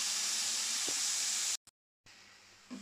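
Boneless chicken breast pieces sizzle on a tawa over a medium flame, a steady loud hiss that cuts out suddenly for a moment, then resumes more softly.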